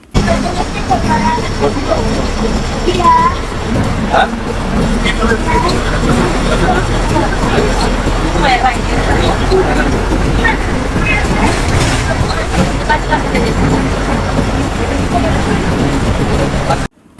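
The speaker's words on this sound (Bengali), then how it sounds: "চলুন আশুক লেল্যান্ড বাসের ইঞ্জিনের সাউন্ড শুনে আসা যাক" Ashok Leyland bus engine running continuously on a Dhaka to Kishorgonj route, a loud low rumble with road and cabin rattle, heard from inside the moving coach.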